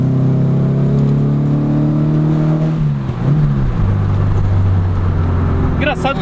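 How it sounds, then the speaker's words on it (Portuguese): A car engine with freshly replaced spark plugs and a new tune hums with a deep, smooth, Subaru-like drone, dipping in pitch as it shifts, then settling into a steady low rumble. "Engraçado que ele tem barulho de Subaru"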